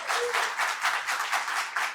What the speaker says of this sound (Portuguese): uma salva de palmas para a professora doutora Camila